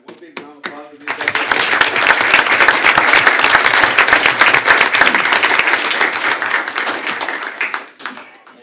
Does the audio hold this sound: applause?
yes